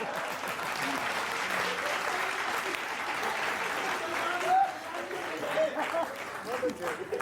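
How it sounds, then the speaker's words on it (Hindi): A crowd applauds at a comedy poetry show, a steady wash of clapping held at moderate loudness throughout, with faint voices and murmurs mixed underneath. "तालियां बजाते रहना मस्ती।"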